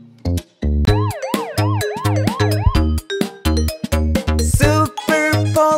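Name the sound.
police car siren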